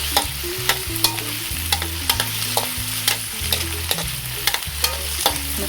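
Onion and tomato sizzle and fry in a pan for a sautéed sardine dish with chayote. A steady close crackle is broken by repeated scraping stirs, over a low melodic backing tune.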